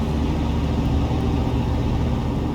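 Heavy truck engine in BeamNG Drive on the East Coast, USA map, rolling downhill with a steady dense low rumble and broadband road noise, loud and continuous with no breaks.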